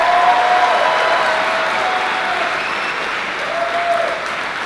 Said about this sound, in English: Let's give our graduates a quick round of applause.